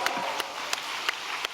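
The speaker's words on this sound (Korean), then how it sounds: "박수도 아끼시면 안 되세요" Audience applause at a Korean church gathering, a special all-night devotion service, heard as a steady wash of clapping from a crowd with a few sharper bursts standing out, moderately loud and without talk.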